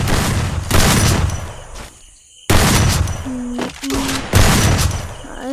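Gunfire rattles in the battle royale video game Free Fire, with loud bursts of rapid shots broken by short pauses and a few brief electronic tones.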